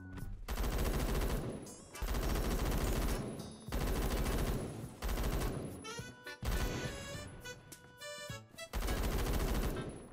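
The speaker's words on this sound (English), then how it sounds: "Why is he just shooting through the wall?" An MG36 in a first-person shooter game fires in sustained automatic bursts, four or five loud, close strings of rapid shots broken by short gaps.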